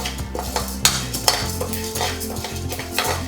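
Spices rattle and scrape in a dry pan as a spoon stirs them, with light clinks of metal on metal and a faint crackle.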